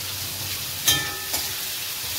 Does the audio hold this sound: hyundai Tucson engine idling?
no